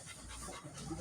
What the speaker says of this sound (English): Your playful dogs.